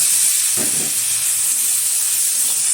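Mustard flowers with a slit chili and a little salt fry in a pan, giving a close, steady sizzle and hiss throughout, with one brief stirring scrape near the start.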